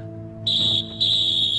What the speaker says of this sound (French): Le coup de sifflet vient de retentir.